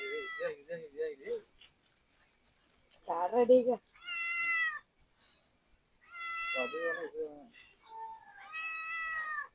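A cat meows repeatedly and insistently nearby, about six drawn-out cries, some low and rough and others higher and whiny, separated by short pauses.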